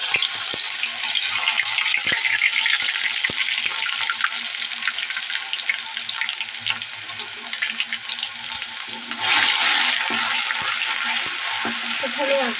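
Duck meat and potatoes fry in a pan with turmeric and salt, giving a steady close sizzle and crackle with occasional light clinks. The frying swells louder near the end.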